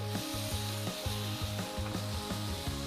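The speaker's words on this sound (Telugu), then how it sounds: "ఇక్కడ వచ్చేసి ఫిష్ కుక్ అవుతుంది." Fish sizzles in a hot pan alongside stir-fried vegetables with no added oil, a loud continuous frying hiss with rhythmic scraping and stirring strokes throughout.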